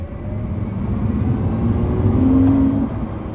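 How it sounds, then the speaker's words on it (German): Lamborghini Countach engine accelerating on the Autobahn, a steady loud low drone with a rising tone near the end, continuous and close without any talk. "Ich fahre Lamborghini Countach."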